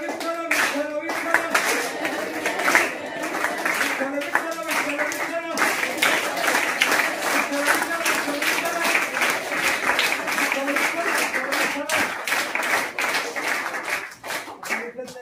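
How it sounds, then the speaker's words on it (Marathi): A school lecture audience clapping hard in a rapid, steady rhythm for a long stretch, dense and loud, with a voice speaking over the clapping at times. "खरोखर जोरात टाळी वाजवली ना"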